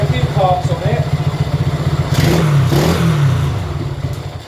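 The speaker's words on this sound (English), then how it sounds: "the engine runs really nice" A custom Honda C90 motorcycle engine runs with a steady, close putter, lifting briefly as if revved midway, while someone talks over it.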